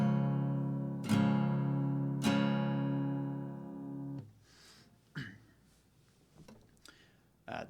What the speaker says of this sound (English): And it should look and sound like this